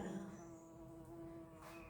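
A steady, quiet insect buzz hums throughout with a faint, continuous drone, close by and unchanging, with no voices.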